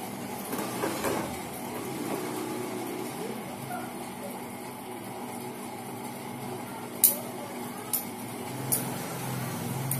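A spoon strikes a plastic plate three times: light, short taps spaced about a second apart, heard against a quiet room background.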